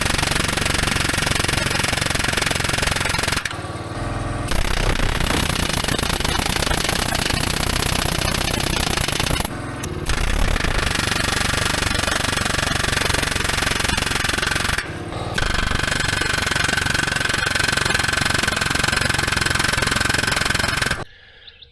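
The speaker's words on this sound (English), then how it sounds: "I ran the air hammer on these blower impellers for a while" Loud, continuous rapid hammering of a pneumatic air hammer on metal dump truck blower impellers, running in long bursts with a few brief pauses between them.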